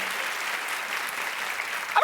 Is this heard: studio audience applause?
yes